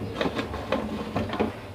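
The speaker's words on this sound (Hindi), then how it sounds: "अब मैं प्रेशर का ढक्कन कर दूंगी बंद।" A pressure cooker lid is fitted and locked shut, giving a few quiet metallic clicks and scrapes spaced a moment apart, close by.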